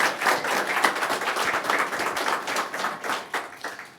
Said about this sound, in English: Can I get a round of applause for him?